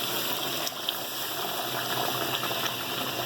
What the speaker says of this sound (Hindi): अब हम इसमें गोश्त करने के लिए पानी डालेंगे।